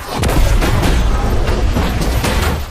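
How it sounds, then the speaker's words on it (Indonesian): An RPG rocket explodes in an action-film battle scene, a loud, close boom that rolls into a sustained, rumbling blast and debris crackle lasting a few seconds. "Beruntungnya Vera masih selamat dari serangan RPG"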